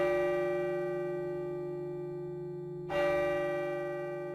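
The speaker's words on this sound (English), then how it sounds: "the hall clock struck 4" A hall clock in a house striking, with a resonant bell tone ringing and slowly decaying, then a second clear strike near the end.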